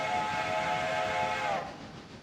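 A passenger train in the railroad video game Railroader sounds its whistle, a sustained loud tone over a rumbling, hissing locomotive that tails off to quieter running noise near the end.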